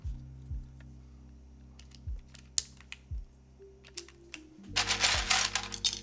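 Keystrokes on a mechanical keyboard fitted with GMK keycaps, sparse individual clacks at first, then a quicker, louder flurry of typing near the end, close and clear with no talking.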